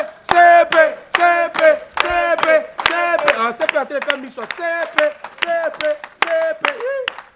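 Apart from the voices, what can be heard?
audience clapping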